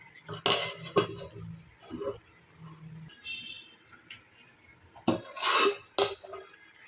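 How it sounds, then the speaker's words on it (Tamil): A metal lid set onto a pot of semiya biryani, with a few sharp clanks and clinks of cookware in a quiet kitchen, two clusters of knocks spaced several seconds apart. "மூடி வச்சிடலாம் ரெண்டு நிமிஷத்துக்கு"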